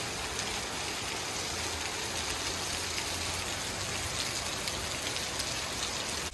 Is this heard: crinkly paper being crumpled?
no